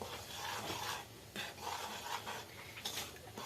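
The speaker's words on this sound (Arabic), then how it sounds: "اول حاجه هعملها هحط البودر على الدقيق كده اهوت، واقلبه حلو قوي كده" Soft gritty scraping and rubbing of baking powder being stirred into flour in a bowl, steady with brief pauses, close by and fairly quiet.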